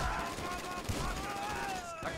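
Rapid gunfire from the video game Grand Theft Auto 5, a dense, continuous burst of shots lasting about two seconds at steady loudness, with a tonal hum running beneath the crackle.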